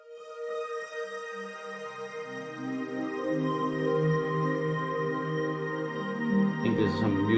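A synth plays sustained tones through delay, filter and ambience effects, with pitched notes rising into a dense wash that swells louder toward the end, with no voices.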